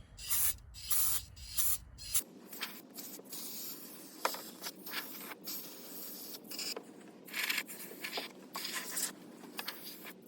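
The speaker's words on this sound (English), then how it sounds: "I'm gonna hit this corner over here with some brake cleaner" Brake cleaner sprayed onto a greasy corner of a car's underside, heard as repeated short hissing aerosol bursts with brief pauses between, close and fairly quiet.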